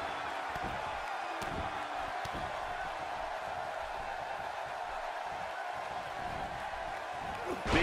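Wrestling arena crowd at a WWE SmackDown tag team match, a steady broad roar of cheering and noise held at an even level throughout, with occasional brief thumps and shouts rising from the mass of fans.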